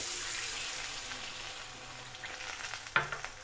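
Chopped cashews fry in a pan, making a steady soft sizzle as a spoon stirs them, with a few scraping knocks and a sharper clink near the end; close and fairly quiet, with no talking.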